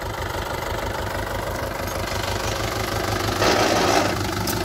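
Mahindra 575 DI tractor engine running steadily during mustard sowing in a field, a dense, continuous mid-to-low rumble with a slight rise in intensity near the end, no talk.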